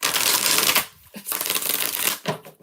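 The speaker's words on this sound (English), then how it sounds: "3 more shuffles." A deck of tarot cards is riffle-shuffled in several quick bursts, crisp dense fluttering close up with brief pauses between riffles, no voices.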